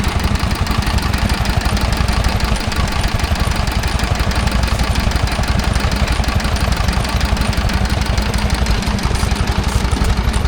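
Petter stationary engine powering a Bamford rapid grinding set at a rural show, a loud, close, evenly paced thumping that runs unbroken, with no voices over it.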